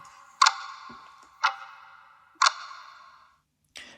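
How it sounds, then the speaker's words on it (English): A game sound effect of a clock ticking slowly and evenly, four sharp metallic ticks about a second apart, each ringing briefly before fading. "we've got a ticking clock that can add a bit more tension."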